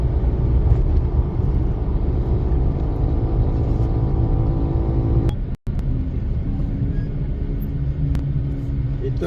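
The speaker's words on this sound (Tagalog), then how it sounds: "So mga sasakyan tumatakbo, mag-ilan-ilan lang." A few cars pass along a quiet provincial road, a steady close engine and tyre rumble with a sudden brief dropout midway, then the drone resumes.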